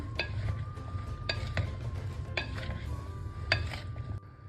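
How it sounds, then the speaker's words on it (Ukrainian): A spoon stirring a mixture of mushrooms with spices, salt and black pepper in a pan, giving a steady scraping sound broken by repeated light clinks against the pan, close up and alone. "Все гарно перемішуємо."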